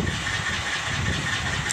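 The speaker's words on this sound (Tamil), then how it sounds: "இதுக்கப்புறம் நம்ம வந்து செல்ஃப் அடித்து பார்க்கலாம்" A vehicle engine with a repaired fuel injector cranks on its self-starter, a loud, close, continuous churning rumble with no voices.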